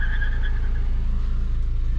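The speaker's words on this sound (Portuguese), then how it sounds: "um Onix e um Palio tirando racha ali" Two cars, a Chevrolet Onix and a Fiat Palio, drag racing side by side: a steady, loud engine drone with a rhythmic low rumble and a high whine as they accelerate, heard alone with no talk.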